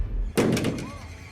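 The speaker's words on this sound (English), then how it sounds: "The door banged, but there was no draft." A door bangs shut once with a sudden, dull thud indoors, followed by a short fading rumble over quiet room noise.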